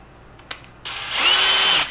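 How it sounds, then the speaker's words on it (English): A Dewalt DCH133 cordless hammer drill running in plain drill mode: after a click or two, the motor whirs up to a steady high whine that holds near and loud for about a second before spinning down. "it just sounds like a normal drill."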